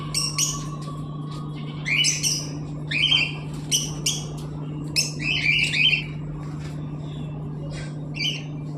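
Pet birds calling before a bath, repeated bursts of sharp squawks and chirps from nearby cages at irregular intervals over a steady low indoor hum.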